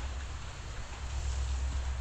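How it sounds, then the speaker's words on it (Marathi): Light morning rain falls steadily at a forest camp on a cycling trip, a soft continuous hiss with low rumble and no voices. "जो पाऊस काल पडत होता तो कंटिन्यू पडत होता रात्रभर आणि आता थोडासा हलका कमी झाला आहे"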